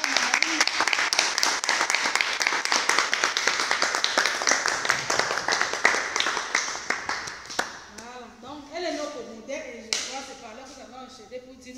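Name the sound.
audience clapping for the Virgin Mary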